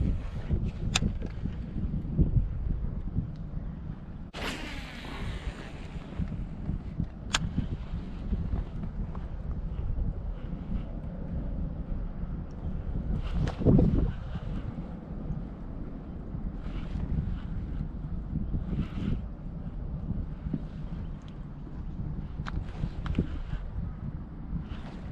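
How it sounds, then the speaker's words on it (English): Wind blows steadily across a pond while kayaking, a constant low rumbling buffet on the microphone with occasional faint knocks and splashes throughout. "Wind's picked up."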